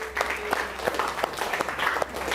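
Light applause from a small group of teachers in a classroom, hands clapping irregularly for a couple of seconds in a room with a faint hum.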